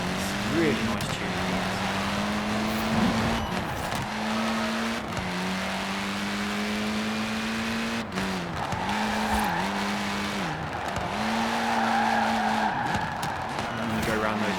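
A Fiat Abarth 131 rally car on a one-lap run at Princes Street Gardens, its engine climbing and dropping through gear changes with tire squeal on the corners, loud and continuous under a voice.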